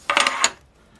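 A coin handled against a lottery scratch ticket: a quick cluster of bright metallic clinks and scrapes lasting about half a second, close and distinct, then quiet.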